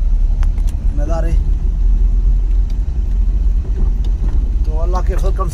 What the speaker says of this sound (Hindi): हम अपने सुजुकी बोलान कैरी डब्बे पे जो है ना जा रहे हैं